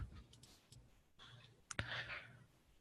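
Computer mouse clicking a Save button in accounting software: a single sharp, close click stands out against a quiet room, with a softer tap or two just before it and no one talking.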